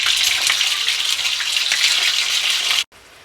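Mutton pieces frying in hot oil with whole spices for a mutton korma: a loud, steady sizzle and crackle that stops abruptly near the end, leaving faint background noise.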